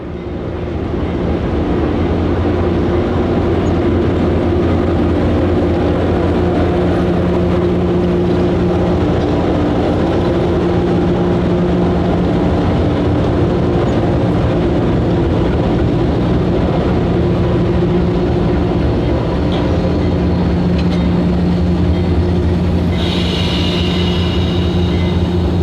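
Freight train on Lhoist North America's Tennessee mining railroad, led by GP40-3 3043 with GE high-hood B23-7 locomotives built in 1981, rumbling past with a loud, steady low diesel drone and humming engine tones throughout, plus a brief higher squeal near the end.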